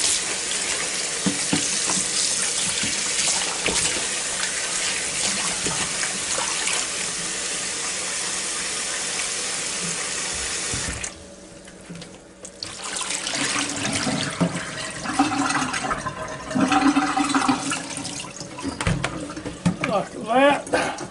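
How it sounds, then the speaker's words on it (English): Water runs from a kitchen tap while chicken drumsticks are washed, a steady splashing stream that stops briefly midway and then resumes with handling noises, and a person talks over part of it. "first thing I want to do is wash these off pretty good here"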